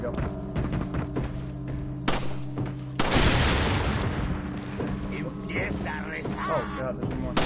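Explosion in the video game Resident Evil 4, a heavy boom at about three seconds that sets off a dense burst of roaring noise, surrounded by thuds and gunfire-like hits, with a voice talking throughout.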